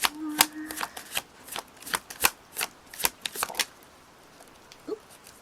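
A Rider-Waite tarot deck is shuffled up close in a run of crisp, papery riffles and slaps, about a dozen quick bursts that thin out toward the end, with no voices.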